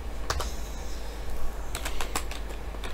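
Scattered bursts of keystrokes on a computer keyboard during a Minecraft-style factions game session, quick irregular clicks close by over a low steady background hum.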